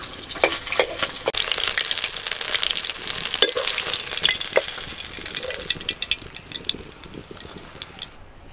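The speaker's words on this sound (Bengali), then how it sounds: "একইভাবে বাকি মাছগুলো আমি ভেজে নিচ্ছি।" Small pond fish sizzle steadily in hot oil in a pan during village cooking, a loud continuous fry broken by scattered crackles and pops, with no talking.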